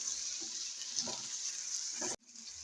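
Tomatoes fry in a ginger-garlic masala with a faint, steady sizzle, broken by a few soft stirring scrapes, then a sudden brief drop before the quiet sizzling resumes.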